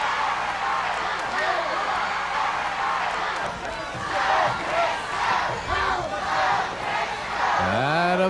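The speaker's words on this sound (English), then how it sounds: "Listen to this crowd." A wrestling arena crowd roars and cheers loudly, with rising waves of yelling that build toward the end, and a commentator's voice talks over the noise.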